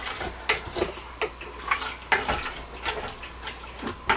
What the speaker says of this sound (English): we're going to let all of these flavors simmer together there, mix them in